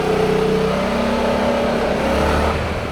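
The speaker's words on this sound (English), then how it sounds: "Oh, the engine sounds nice. You can actually feel the bass on it when you're in the tunnel." A Yamaha XMAX 300 scooter engine accelerates inside a tunnel, its steady, bassy drone rising slightly in pitch over three seconds, loud and close with reverberant rumble.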